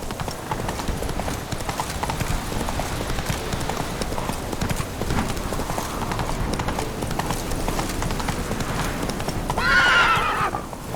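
Horse hooves galloping in The Witcher 3, a steady rapid clip-clop over constant outdoor ambience, ending with a loud neigh near the end.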